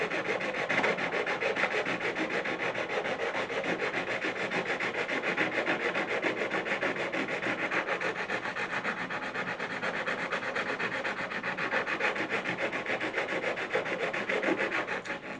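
Wood being sanded by hand for a PS4 stand, close and loud with continuous rapid back-and-forth rasping strokes that hold steady throughout.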